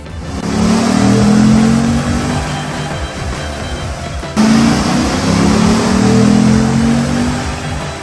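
A 2013 Ram 2500 work truck with a performance cam revs hard and loud, holding high for several seconds, dipping briefly, then surging again.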